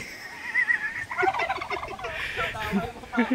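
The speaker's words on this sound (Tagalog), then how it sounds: "Mga pabo ko yan." Several turkeys gobble loudly and nearby in rapid warbling bursts that overlap and repeat throughout, with no talking.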